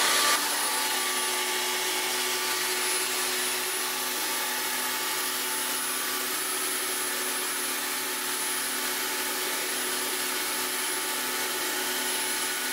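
A HYLA vacuum cleaner that also washes floors runs while cleaning a children's room floor, giving a steady, sustained whirring hum with a thin high whine, constant and close with no talk.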